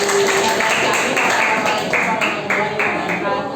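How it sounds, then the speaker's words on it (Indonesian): Students in a classroom clap for a group, a fairly loud run of rhythmic claps with chatter and voices mixed in. "kasih tepuk tangan buat kelompok langsung"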